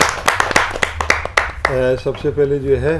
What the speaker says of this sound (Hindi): जोरदार ताली के साथ अरुण साहिबाबादी जी को